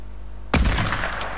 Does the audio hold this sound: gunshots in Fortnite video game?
yes